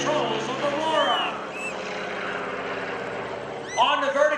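A Stearman biplane flies aerobatic manoeuvres at the 2012 Greenwood Lake Airshow, its radial engine a loud, steady drone that rises and falls in pitch as the plane climbs and rolls, with a voice faintly audible underneath.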